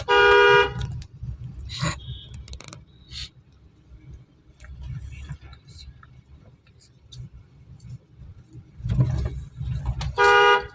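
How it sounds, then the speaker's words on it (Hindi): Two loud, sustained car horn blasts, one at the start and one near the end, over steady engine rumble and passing road noise. "लॉन्ग हॉर्न पुश करो"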